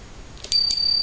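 A small bell chimes with a bright metallic ring, one light strike followed by a sustained sharp tone that fades briefly, heard close in a quiet room.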